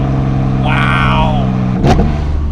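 A 2023 Porsche Cayman GT4 RS Weissach with PDK gearbox, its engine held at high revs toward 8,000 rpm: a loud, steady multi-harmonic drone with a brief voiced exclamation over it and a short whoosh near the end.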